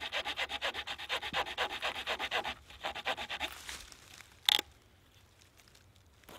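A hand saw cuts through resinous wood at a spring bushcraft camp, giving steady rhythmic rasping strokes for about three seconds, then fading to slower scraping with one brief sharp knock before quiet.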